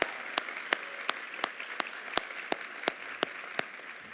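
Audience applause at a keynote event for a woman asked to stand, a soft, distant wash of clapping with a few sharper regular claps close by, steady for several seconds.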